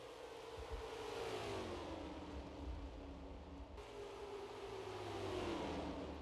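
Several NASCAR stock cars race in a sim of the 1991 Miller Genuine Draft 400 at Michigan International Speedway, engines droning together in a steady, loud roar with rising and falling pitch as the pack passes slower traffic.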